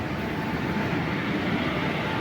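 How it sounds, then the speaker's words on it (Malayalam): Netravati Express passing near Thiruvananthapuram Central on the Kollam–Nagercoil line, a steady, loud, continuous broadband rumble with no pause across the whole stretch and no voices. "നമ്മുടെ നേത്രാവതി എക്സ്പ്രസ് ആണ് ഈ പോകുന്നത്"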